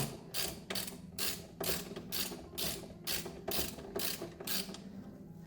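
A torque wrench with a reversible ratchet head loosens a nut on a Yamaha XJ 600 motorcycle during a service, giving about nine evenly spaced rapid clicking bursts, close and fairly quiet, with no talk.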